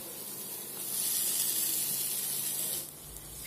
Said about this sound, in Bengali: এবার ভেজে রাখা ফুলকপিটা আমি দিয়ে দেবো।